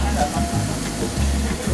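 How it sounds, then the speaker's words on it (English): Food sizzles and crackles steadily in a hot pan during a food history and science class, a dense, even hiss over a low hum. "You want to hear that sizzle."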